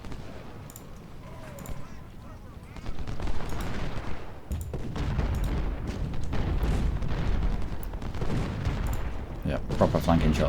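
Cannon and rifle fire from Ultimate General: Civil War rolls and crackles in dense volleys of booms and rattling musketry, growing heavier partway through, with someone talking over the battle.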